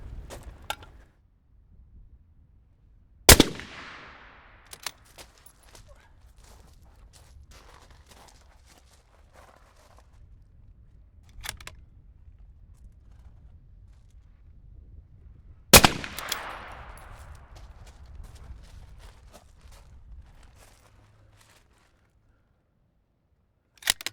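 Rifle shots cracking out on a 100-yard precision shooting range, two loud sharp reports with ringing decay spaced well apart, plus a few fainter impacts and handling noises between them, no talking.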